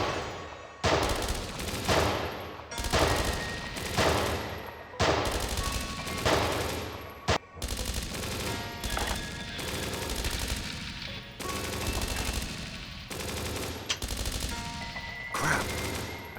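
Rapid gunfire bursts from the video game Dreams of Another, loud and repeated volleys in quick succession with short pauses, continuing throughout with no talking.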